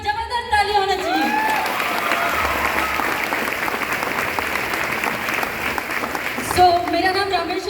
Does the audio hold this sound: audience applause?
yes